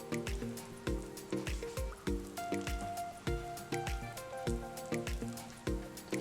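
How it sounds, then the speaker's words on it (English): Rhythmic wet clicks and taps of a whisk beating blue velvet cake batter with added cocoa powder in a bowl, close-up strokes repeating roughly every half second with a faint ringing tone. "And whisk."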